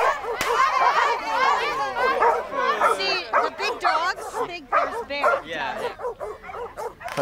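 Several frightened dogs bark and yip in quick, overlapping bursts, some high-pitched and whimpering, fairly close and loud throughout.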